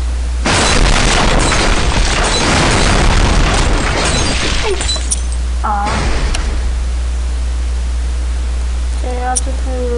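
TNT blasts in a video game, one loud sustained roaring burst with a rumbling decay that fades into steady hiss, followed by a few thin electronic tones, all heard close and with no speech.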